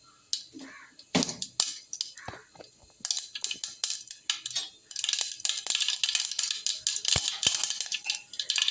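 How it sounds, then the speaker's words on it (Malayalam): Mustard seeds splutter in hot coconut oil in a pan while cooking a mushroom thoran, giving close, irregular sharp pops and crackles that grow denser and more continuous toward the end. "ഓയിൽ ചൂടായി വരുമ്പോഴത്തേനും കടുകിട്ട് പൊട്ടിക്കുക."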